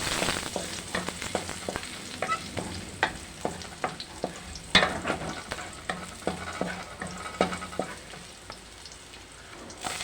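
Garlic frying and sizzling in a pan for Filipino chicken patola with pechay, with a steady crackle broken by repeated sharp scrapes and stirs of a utensil against the pan, close and alone with no talk.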